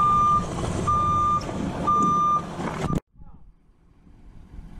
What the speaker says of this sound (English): We're backing Dad up to the accumulator, because we're going to be towing it behind his trailer.